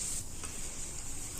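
Ginger-garlic paste and green chilli fry in a pan, a faint, even sizzling hiss heard up close for a moment, with no voices.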